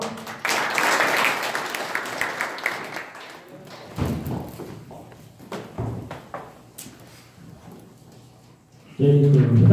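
An audience claps in a seminar room at a golf practice range during a Korea Masters Golf Association teaching session. A few seconds of steady, fairly loud applause give way to scattered thumps and taps.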